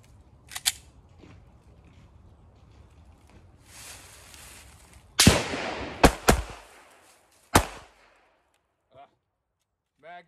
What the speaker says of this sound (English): Come around our barrel, one shot, drop, pick up our mag, reload, and then last shot